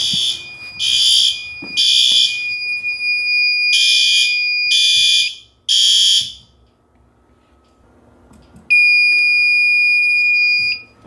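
A fire alarm set off by a triggered detector, wired to shut down a generator, sounds in loud repeated bursts of shrill beeping, goes quiet briefly, then gives a sustained electronic tone.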